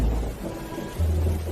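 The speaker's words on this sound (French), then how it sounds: "Cette pluie, elle est trop soudaine." A sudden downpour of rain brings deep rumbling thunder, with two heavy low rolls over a steady hiss of rain and no voices.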